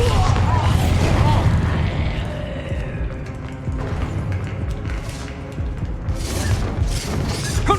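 A Bombarda spell explosion in the Hogwarts Legacy video game: a dense, loud barrage of crashing blasts, shattering debris and mechanical clatter, with further booming bursts near the end.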